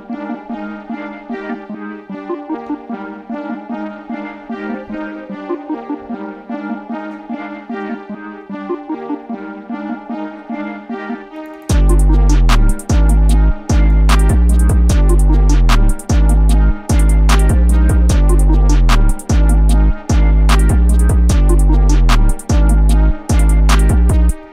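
A hip-hop beat loop opens with a melodic synth pattern alone, then heavy booming 808 bass and drums crash in around halfway, loud and dense to the end.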